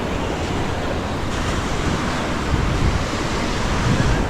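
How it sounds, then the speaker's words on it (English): Surf on a kelp-strewn Encinitas beach in San Diego in summer: a steady, close, full roar of breaking waves with slight swells in intensity. There is no talk, and some wind rumbles underneath. "the waves look a little bit bigger, but really they're not that big"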